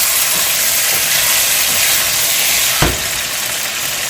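Chicken pieces frying in a pan with garam masala give a steady, close sizzle and hiss that runs throughout, with a brief sharp burst near the end as the pieces are moved or stirred.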